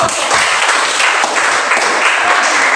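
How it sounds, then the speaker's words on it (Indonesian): Steady applause from a crowd, dense clapping filling the space evenly for a few seconds. "Tepuk tangan untuk kita."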